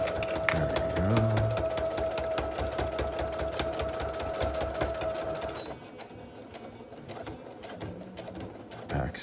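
A sewing machine back stitches over a vinyl bag handle, a rapid loud needle chatter with a steady whine for several seconds, then slowing and easing off into lighter uneven stitching.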